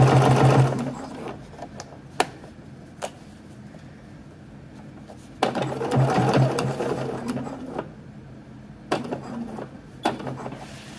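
A sewing machine stitches a folded hem on swim trunks in two clear bursts of rapid whirring, one short at the start and a longer run midway, with quiet handling clicks and pauses between.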